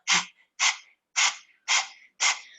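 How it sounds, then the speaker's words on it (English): Five sharp, forceful breaths, evenly spaced about half a second apart, from breath-of-fire panting in a kundalini breathing exercise; close, breathy bursts with silence between them and no talking. "So it might be that as you get used to breath of fire, you can just stay panting."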